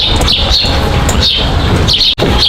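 Several shrill, high kea parrot calls ring out in repeated bursts over a busy, noisy zoo background, loud and nearby.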